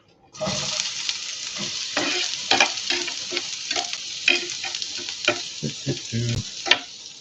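Tomato sauce ingredients fry in a pan over medium-high heat, a steady sizzle with repeated scraping and clacking strokes of a fish spatula stirring through it, close and fairly loud, with no talking.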